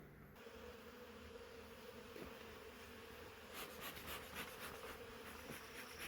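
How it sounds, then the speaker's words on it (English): Massive honeybee swarm settled in a swarm trap, a dense continuous buzzing drone heard close and steady, with a few louder passes of individual bees near the end. "this massive swarm that I got in my swarm trap"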